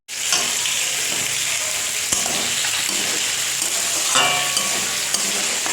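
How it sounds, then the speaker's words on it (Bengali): Fish fries in a pan of hot oil with a loud, continuous sizzle and crackle, plus a few sharper spatters and clinks over the nearly six seconds, with no talking. "আর এখানে এই যে মাছ ভাজা বসিয়েছি, কিছু মাছ ভাজা হয়েও গেছে।"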